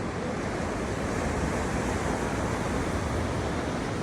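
Open-sea waves off the coast near a lighthouse at Timaru, New Zealand, roar in a steady, dense wash with wind rumbling across the microphone, loud and unbroken throughout with no voices.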